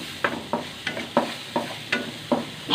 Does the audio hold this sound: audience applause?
no